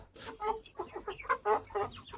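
A Peruvidai chicken clucks close by in a quick series of short, choppy calls.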